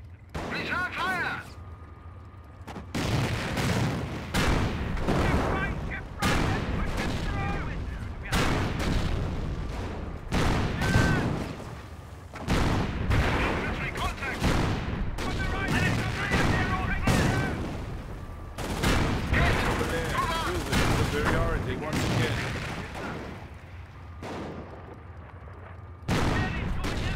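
Gunfire rattles in Company of Heroes during tutorial training, with repeated bursts of rifle and machine-gun fire plus booming impacts in quick succession. Battle voices are mixed in throughout.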